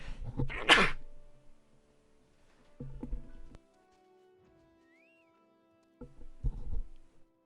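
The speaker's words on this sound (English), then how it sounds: "I gotta sneeze" One loud, close sneeze bursts out at the start, followed by quieter human vocal sounds and breaths, with short pauses between them.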